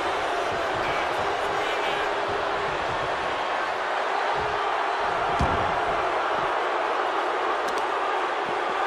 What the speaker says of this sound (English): when you can't hear yourself think because the crowd's so loud